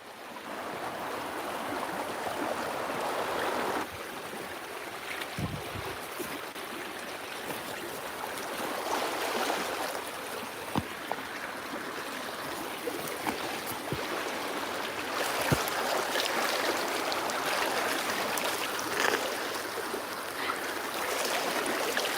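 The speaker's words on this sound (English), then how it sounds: "It's actually good enough to drink from the stream." Water from a stream on a Russian property rushes steadily in a broad, continuous wash, close and moderately loud, with occasional soft knocks and no talk.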